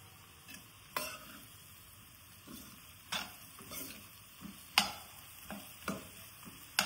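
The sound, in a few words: bitter gourd curry frying in oil in a pan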